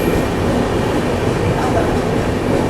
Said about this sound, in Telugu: మనమైతే ఇప్పుడు ఆ స్పెషల్ ట్రైన్ ఓవర్టేక్ చేసుకుంటూ వెళ్ళిపోతున్నాం